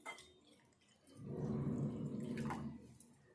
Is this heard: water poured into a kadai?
yes